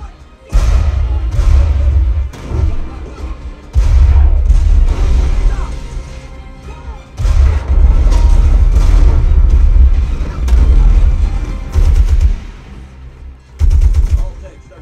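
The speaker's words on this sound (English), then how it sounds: "A capable sub should hit those tank blasts real hard and make you feel it in your body." Tank cannon blasts and rapid gunfire from the war film Fury in a Dolby Atmos mix, played through a sealed 15-inch HSU VTF-15H MK2 subwoofer: heavy repeated booms and rumbling bursts, loud and dense throughout, with no talk.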